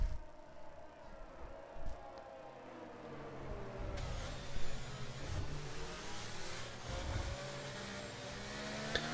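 A safety car engine in the F1 23 racing game, an Aston Martin Mercedes, hums and revs steadily for several seconds with rising and falling pitch, fairly close and continuous, with no voices over it.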